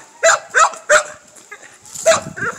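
A male bulldog gives a series of loud, close barks, three in quick succession and then a couple more after a short pause.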